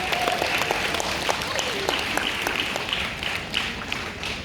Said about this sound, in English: Give yourselves a round of applause and give your teams a round of applause